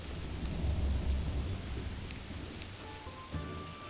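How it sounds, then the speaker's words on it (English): Steady rain falls in the medieval strategy game Manor Lords, a constant wash of patter with low rumbling that could be distant thunder, continuous and moderately loud with no talk over it. "Oh, because it's raining?"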